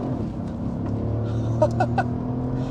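A B7 Audi S4 driving down the road, heard from inside the cabin: a steady, subdued low exhaust drone with a slight swell in revs toward the end.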